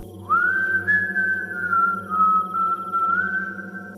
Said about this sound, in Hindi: वो आवाज ऐसी थी जैसे किसी ने सीटी बजाई हो।